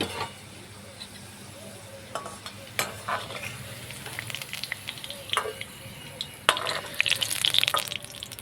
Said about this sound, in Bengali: গাজরগুলোকে উল্টে পাল্টে ভালোভাবে ভেজে নিলাম।